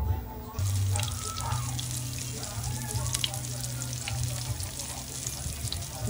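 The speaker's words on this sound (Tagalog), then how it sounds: "Iprito na nako ang talong." Eggplant frying in hot oil for tortang talong, a continuous crackling sizzle that holds steady throughout, with faint voices and household noise behind it.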